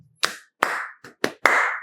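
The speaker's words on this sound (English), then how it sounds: "Clap for me." Hand clapping in five sharp, separate bursts spread unevenly across a couple of seconds, each a close, loud smack, some trailing into a brief ring, with no voices.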